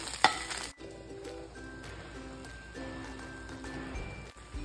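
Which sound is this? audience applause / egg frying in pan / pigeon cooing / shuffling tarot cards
egg frying in pan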